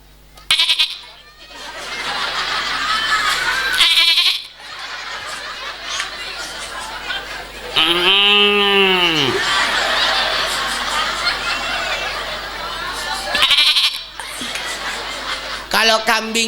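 During a Maulid Nabi sermon in a mosque, the preacher imitates a goat's bleating with a long, wavering, rising cry. Speech and laughter come before and after it over a continuous hall ambience.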